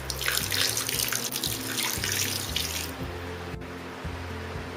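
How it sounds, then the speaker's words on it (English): Water runs steadily onto soft cheese curds for about three seconds, then the flow tapers off, with a low hum underneath. "Now we'll add some water to it"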